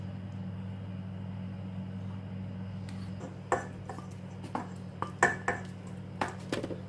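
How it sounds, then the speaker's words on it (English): Mashed bananas and yogurt are stirred into a beaten butter and sugar mixture, first quiet background hum, then scattered light clinks and taps of a utensil against the bowl in the second half. "mix them up as well until it's all well combined"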